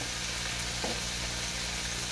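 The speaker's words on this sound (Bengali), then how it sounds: "এবার আমি দিয়ে দেবো পেঁয়াজ" Onions fry in a pan with a loud, even sizzle that holds steady throughout, close up and with no voices.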